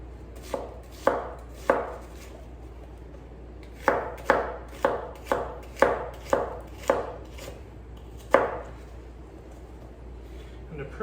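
A knife chops an onion on a cutting board with sharp, close thuds. A quick run of three comes first, then a steadier series of about six, then one last cut, all over a quiet background with no talking.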